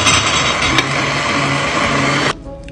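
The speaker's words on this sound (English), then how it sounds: "Now we're just gonna put on our blender." A countertop blender whirs loudly at close range, a dense buzzing motor drone that holds steady for about two seconds and then cuts off abruptly, leaving a faint quiet tail.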